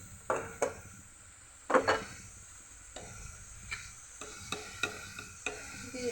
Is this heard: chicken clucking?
no